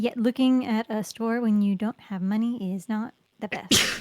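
A single sharp sneeze bursts out near the end, right after steady conversational talk during a casual online fishing game session.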